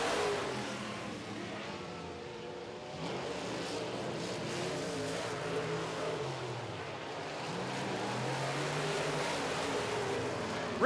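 Modified race cars in a feature race on a track, a steady loud engine roar with rising and falling revving as cars pass, heard from a distance without talk.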